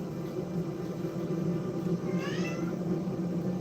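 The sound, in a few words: cat meowing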